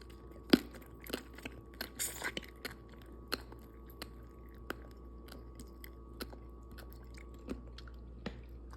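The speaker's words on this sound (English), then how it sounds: "I was able to chew it out. I was able to split this in half with my teeth, so it's not too hard." Close, wet chewing of simmered beef tendon from a butter soup, with soft squishy bites and occasional sharper clicks repeating irregularly over several seconds.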